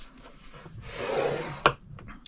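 A scoring tool drags along a score line in a sheet of cardstock, giving one short scraping rub that ends in a small sharp tap, close and fairly quiet.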